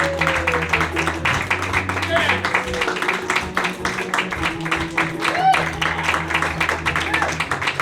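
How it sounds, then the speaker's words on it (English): An audience claps in applause as performers enter, a dense patter of hands heard under a voice over a loudspeaker and other people speaking. "Let's give them a round of applause."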